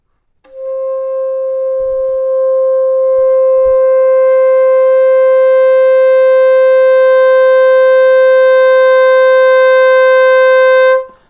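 A single long saxophone note, an A, held steady for about ten seconds, starting soft and swelling louder and brighter, played alone.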